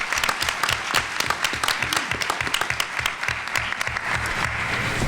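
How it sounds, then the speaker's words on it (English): An audience at a talk on women, violence and gun control applauds, dense sustained clapping from many hands that fills the room steadily for several seconds. "could you please give the members of the DMV cluster a round of applause"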